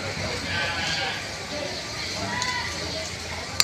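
Large goats bleat intermittently in the middle distance amid a busy outdoor livestock market background, with a sharp knock near the end.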